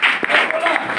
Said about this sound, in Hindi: एक बार मैं जोरदार ताली चाहूंगा सर के लिए